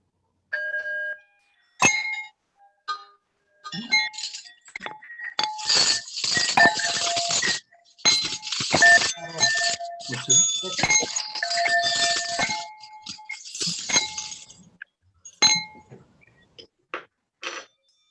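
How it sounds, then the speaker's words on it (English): Church bells rung by congregation members unmuting on a video call for a Sunday service, overlapping bright chiming strikes in irregular clusters and bursts, some loud and some faint, with short pauses between volleys and no talk. "this is an opportunity to unmute yourselves and let the bells call us to our service"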